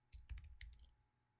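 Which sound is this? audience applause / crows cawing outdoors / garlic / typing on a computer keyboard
typing on a computer keyboard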